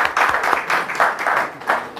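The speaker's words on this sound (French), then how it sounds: "Merci Mohamed, il faut l'applaudir." A short burst of audience applause at a community gathering in Mali, steady, dense hand clapping from a crowd that swells in a few uneven waves across two seconds.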